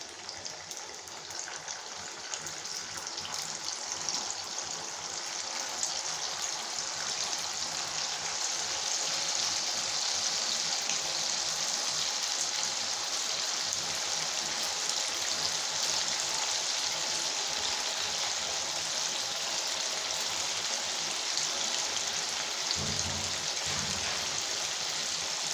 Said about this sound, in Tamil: இதே மாதிரி இருக்கிறது எல்லா காலிஃப்ளவரையும் போட்டு பொரித்து எடுத்துட்டு